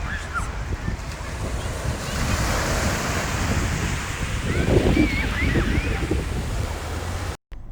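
Ocean waves at a beginner surf beach roll and wash in a steady loud surf roar, with wind buffeting the microphone and a brief dropout near the end.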